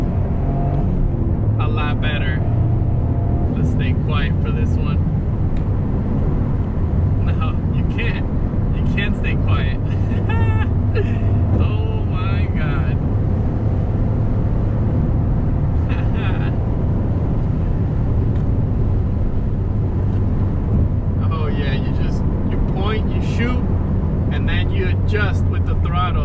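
A Toyota GR Corolla's engine drones steadily from inside the cabin while driving, loud and continuous, with a low rumble and occasional higher whines and tire or road noise over the stretch.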